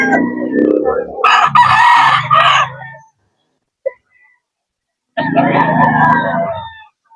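Rooster crowing at a chicken market among farm breeders selling birds, two long loud crows close by separated by a silent pause, with a brief cluck in between.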